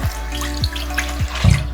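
Water running from a tap over a makeup brush being rinsed, a close steady splash with a low droning hum and repeated brief sliding sweeps as the brush is rolled under the stream.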